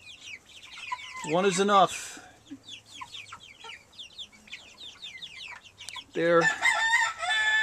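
Meat chickens cluck and chirp steadily while a young rooster with long tail feathers gives two short, rough crows, close by, with a person speaking briefly over the flock.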